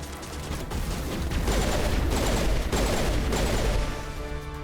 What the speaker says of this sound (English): Leora, why are you shooting the wall?